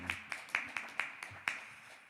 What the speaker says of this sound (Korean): 다시 한번 하나님께 영광의 박수 올려드립니다.